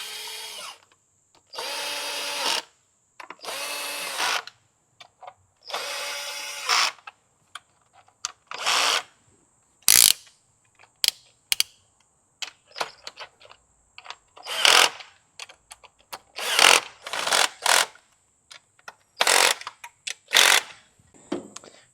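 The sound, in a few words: head bolts run in and tightened, Nissan X-Trail QR25 engine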